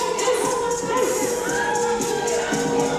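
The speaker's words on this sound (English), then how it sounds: "listen to the crowd" Wrestling crowd at a tag team championship match cheering and shouting with a bright whistle-like tone rising over the steady roar, loud and continuous through the short stretch.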